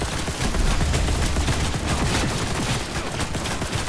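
Gunfire in Cyberpunk 2077 rattles on without a break. Dense, loud automatic bursts and a fusillade of shots fill the whole stretch.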